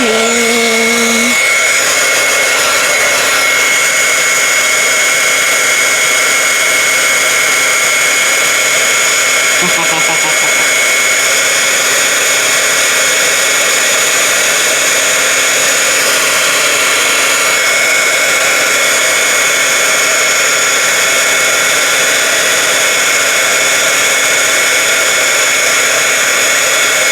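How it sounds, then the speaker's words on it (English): A heat tool for embossing blows a loud, constant hot-air whine and rush, steady for the whole stretch with only slight shifts in pitch. "My heat tool is what I meant to say."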